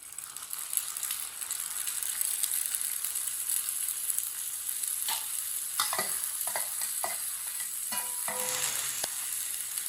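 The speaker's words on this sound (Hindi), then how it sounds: "इसे ना अच्छी तरह मिक्स कर लेते हैं।" Rice being stirred into warm sugar syrup in a pot for a sweet zarda rice dish, giving a steady close sizzle with a run of clustered scraping stirs in the second half and no talking.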